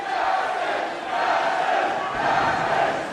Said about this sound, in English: This crowd coming alive